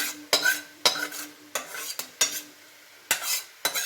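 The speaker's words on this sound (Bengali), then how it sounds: "এবার দেখো চিংড়ি মাছগুলো মশলার সাথে নেড়ে চেড়ে নেওয়া হচ্ছে" Shrimp tossed with spices in a wok for a shrimp-and-cabbage dish: close scraping stirs with a metal spatula come in about six short bursts over a steady sizzle, with no talking.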